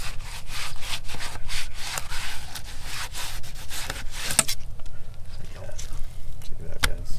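A knife slices a triggerfish fillet away from its tough hide in repeated rough, rasping strokes close up, steady throughout, with a couple of sharp clicks near the end.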